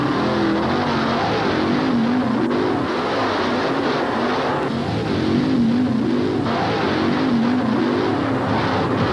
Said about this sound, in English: Get ready for the thrilling spectacle of truck and tractor pulling.